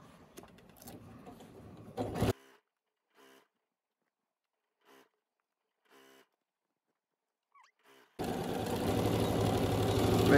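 A sewing machine stitches the corners of a tote bag, running steadily at first, pausing through a long near-silence broken by faint short clicks, then starting up again loud and continuous at the end.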